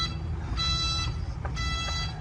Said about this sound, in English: Reverse, got a nice reverse beep, safety precaution beep.